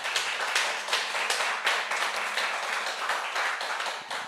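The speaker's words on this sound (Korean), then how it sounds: "다시 한번 감사의 박수" An audience at a church lecture gives a sustained round of thankful applause, dense and fairly loud clapping with a lively, slightly uneven rhythm that continues for several seconds.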